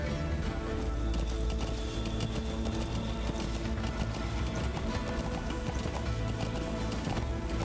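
Continuous galloping horse hoofbeats in Metal Gear Solid V: The Phantom Pain run through a dense, loud wash of game ambience, with no pauses from start to finish.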